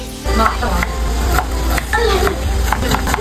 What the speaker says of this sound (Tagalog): Tapos pinirito ko na rin yung 5 pang isda.